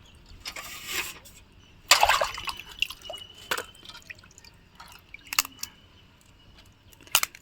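Water drips and splashes intermittently as large crabs are rinsed, with sharp close bursts scattered over a quiet background.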